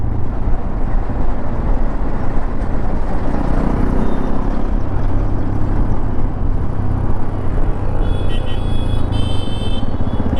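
Hero XPulse 210 motorcycle in road ABS mode, riding steadily with a continuous loud engine and road drone throughout, including braking, with no talk.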